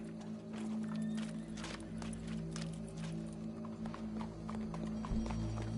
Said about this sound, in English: Go brush that horse